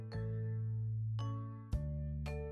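A front-door doorbell rings with two ding-dong chimes, each a clear, sustained bell tone that rings out before the next strike, with no voices.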